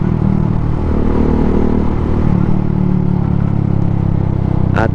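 A Suzuki Gixxer 155 fuel-injected motorcycle with an Akrapovic full-system exhaust rumbles steadily at close range while riding, a low continuous drone with some mechanical clatter and no voices.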